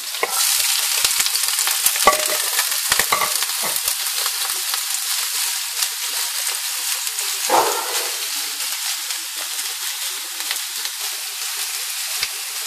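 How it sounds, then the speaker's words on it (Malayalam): Onions sautéing in a pan alongside frying prawns for a Kerala chemmeen roast give a steady, close broadband sizzle throughout, with a few stirring clatters near the start and a brief louder burst partway through. "ചെമ്മീൻ ഫ്രൈ ചെയ്യുന്ന അതേ സമയം തന്നെ നമുക്ക് ഉള്ളി വയറ്റം വയ്ക്കാം"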